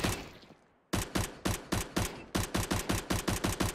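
A UMP submachine gun in CS:GO firing short, rapid bursts, starting after a brief pause and then chattering in steady, loud repeated groups of shots.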